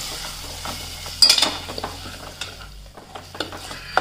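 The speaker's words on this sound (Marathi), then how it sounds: "आता शेंगदाण्याच्या कुटाची जी आपण पेस्ट केली आहे ती पण तेलामध्ये छान परतून घेऊया।" Peanut paste being stirred as it fries in oil in a pan, with a soft sizzle and irregular scraping and clinking of a spoon against the pot, moderately close.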